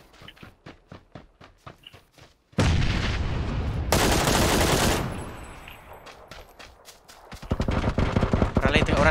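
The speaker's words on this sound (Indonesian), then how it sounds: "Orang lain tengah tembak dia." PUBG battle royale gunfire: a fast string of sharp single shots, then dense, loud sustained bursts of automatic fire that ease off briefly before another heavy volley near the end.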